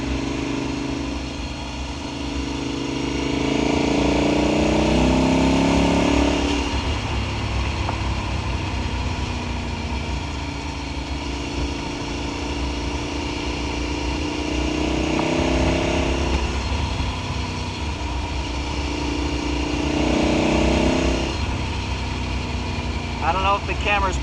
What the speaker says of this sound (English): It's got an aero exhaust on it, and this sounds good.